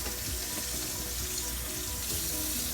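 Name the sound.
rinsing red onion under kitchen tap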